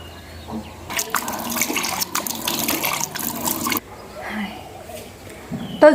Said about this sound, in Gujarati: હાલ નહીં અમે હાલ ખાલી હાથ પગ ધોશું